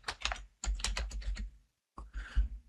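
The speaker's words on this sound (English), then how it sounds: "Just by typing partial name," Quick bursts of keystrokes on a computer keyboard, close and clear, typed in two runs separated by a short pause with a final flurry after it.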